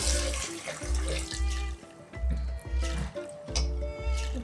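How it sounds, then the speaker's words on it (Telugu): A tumbler of water pours and splashes into a metal pressure cooker in a steady rhythmic series of glugs, close by with no talking. "వన్ టంబ్లర్ వాటర్ వేసుకుంటున్నాను"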